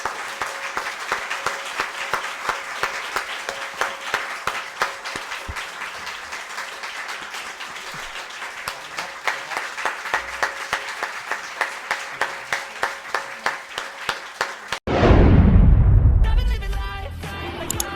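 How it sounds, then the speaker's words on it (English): Warm audience applause for two politicians, former party leaders, at a foreign press event: rhythmic, fairly steady clapping for about fifteen seconds, then cut off abruptly by a sudden loud, booming burst. "give a very warm round of applause to our two-star politicians."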